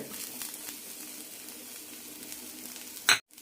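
Small cut coconut pieces fry in a pan for an okra chutney, giving a steady broadband sizzle throughout, with a brief louder burst near the end before an abrupt cutoff; no one speaks.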